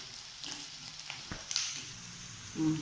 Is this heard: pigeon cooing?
no